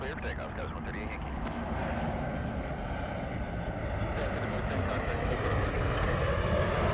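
An aircraft taking off from runway 24 left at LAX, a loud steady engine roar building and holding throughout, with faint voices and radio chatter underneath.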